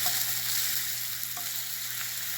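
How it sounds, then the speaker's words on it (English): Fish sizzles steadily in a hot pan of melting butter while it is basted, a close, even frying hiss with faint spoon scrapes and no talking. "As that butter melts, we want to continuously baste this fish while we cook it the rest of the time here."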